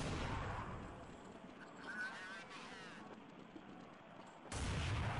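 Gunfire in Counter-Strike 1.6 on the de_dust2 map, a dense crackle of shots mixed with game noise, staying loud throughout with a sharp louder burst near the end.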